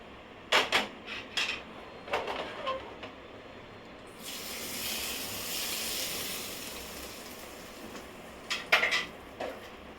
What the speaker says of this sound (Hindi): अब उस कढ़ाई को इधर करके इसमें मैं तड़का लगाऊंगी